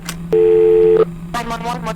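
A telephone dial tone from the horror video game Father: The Truth, a steady loud tone holding for under a second, with a brief click before it and a voice speaking right after.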